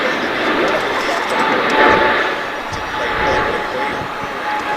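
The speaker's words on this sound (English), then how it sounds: "there you see an American flight taking off to Los Angeles" An American Airlines jet takes off from DFW International Airport, a broad engine roar that swells and fades at middle distance while people talk beneath it.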